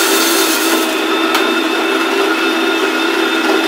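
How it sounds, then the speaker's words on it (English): A family electric grain mill grinds grain with a loud, constant, even mechanical whir and gritty hum, unbroken and close throughout with no talking. "Let's us grind some grain."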